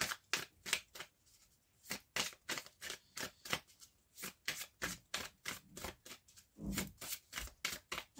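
Oracle cards for a fairy card reading, shuffled close up in a steady run of about twenty quick riffling bursts, each a short crisp flutter, with brief gaps between them and no voice.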